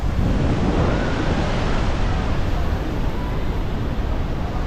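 Niagara Falls gives off a steady, dense roar of crashing water, loud and unbroken throughout, with a windy, wash-like texture and no speech.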